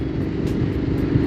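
Royal Enfield Interceptor 650 motorcycle fitted with an SS Moto full system exhaust, riding at around 110 km/h, giving a steady, loud, deep engine drone throughout with no talk.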